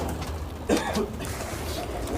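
A pigeon gives a single short coo near a loft in Sonipat, Haryana, over a low steady murmur of birds, with no one talking.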